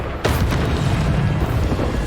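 Booming Bombarda explosion spell in the Hogwarts Legacy video game: a sharp blast hits at the start, then a dense rumbling roar sustains loudly throughout.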